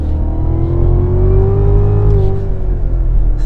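Loud, close engine roar of a 2016 Cadillac CTS-V with a supercharged LT4 V8 under hard acceleration, its steady rising drone holding through a brief shift before climbing again.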